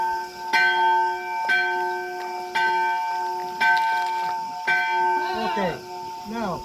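A church bell in Crete rings six times in a slow, even series of loud clanging strokes, each leaving a long ringing tail, with a little background noise near the end.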